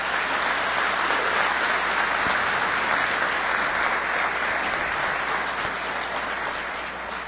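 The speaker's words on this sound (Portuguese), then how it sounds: "Peço uma salva de palmas mais uma vez a essa senhora." At a 70th-anniversary ceremony for an industry federation, an audience gives sustained, dense applause that stays loud and even for several seconds, then fades slightly toward the end.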